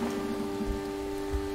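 Steady rainfall in the video game Rain, a continuous hiss of drops with soft low patters beneath a sustained tonal hum, heard alone without voices.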